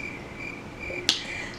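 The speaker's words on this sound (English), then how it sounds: "Let's just leave some crickets for that." Crickets chirp in a steady, faint high-pitched trill laid under a quiet room, with one sharp snap-like click near the end.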